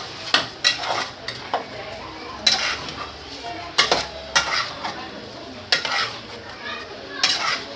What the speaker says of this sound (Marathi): छान असं मिक्स करून घेऊयात.